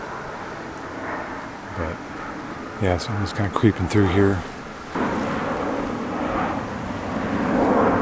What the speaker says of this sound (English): A ton of airplanes coming through